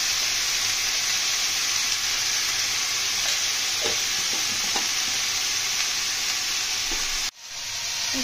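Bitter gourd and potato sizzle steadily in hot oil with turmeric and cumin powder, a continuous loud frying hiss with faint stirring scrapes, no talking.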